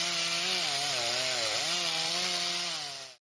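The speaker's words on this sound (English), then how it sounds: "Noise from mechanical saws" A mechanical saw cutting, loud and close, its steady whining drone dipping once in pitch as it bites under load, then fading out at the end.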